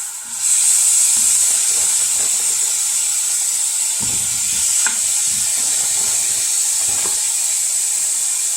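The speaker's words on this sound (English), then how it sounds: "Here it's sizzle." Loud, continuous sizzling of chicken frying in oil in a pan, a bright steady hiss with occasional crackles and faint clinks, close up.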